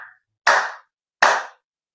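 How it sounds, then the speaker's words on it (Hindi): Two sharp, loud hand claps about 0.75 seconds apart, with a fainter clap at the very start, performed alone during a pranayama breathing exercise. "इसके साथ में ताली बजाते हैं ये ऐसे"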